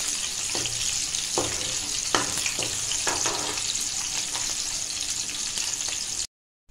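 Chillies and garlic stirred as they fry in a pan, giving a steady close sizzle broken by several sharp scraping strokes of the spoon, cutting off abruptly near the end.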